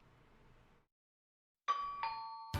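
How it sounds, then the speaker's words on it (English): Doorbell in the video game Kagetsu Tohya: after a faint murmur and a short silence, a clear two-tone ding-dong chime rings out, followed by the start of another chime. "The doorbell rang."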